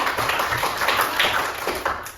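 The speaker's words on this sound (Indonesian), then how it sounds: "Oke, tepuk tangan dulu untuk kelompok 3" Classroom applause for group 3 after their presentation: steady, fairly soft clapping from several students in a room, a continuous patter of hand claps lasting a couple of seconds.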